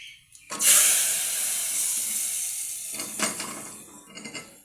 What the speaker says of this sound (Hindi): तड़का हमने डाल देना है दाल के ऊपर